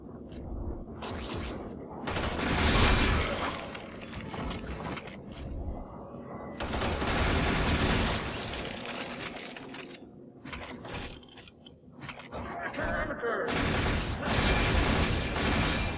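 Gunfire in Warframe during a survival run against a Grineer death squad: loud, dense bursts of rapid mechanical shots in several long volleys separated by short lulls, close and forceful.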